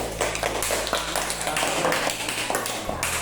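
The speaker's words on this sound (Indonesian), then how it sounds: "tepuk tangan untuk kelas 1" Classroom of students applauding a presenting group, a steady patter of many hands clapping close by over a low background hum.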